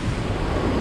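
Fast-flowing stream water at a crossing point, a loud, continuous rushing roar, close and unbroken, with some wind rumble.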